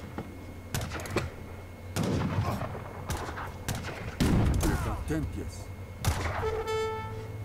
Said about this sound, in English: cannon, cannon, cannon